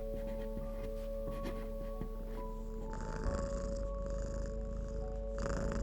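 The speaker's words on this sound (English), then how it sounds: "the purring of my cats" Cats purr softly and steadily at close range in a quiet indoor room, with a low rumble running the whole way through and a slight rise in breathiness toward the end.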